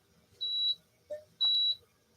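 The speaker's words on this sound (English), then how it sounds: "What's with the beep?" Two high electronic beeps from a dehumidifier whose water tank is full, separated by a brief soft knock, close and clear in a quiet room.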